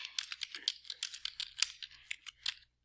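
Quick, light keypresses on a computer keyboard, a close burst of irregular clicks lasting a couple of seconds before stopping.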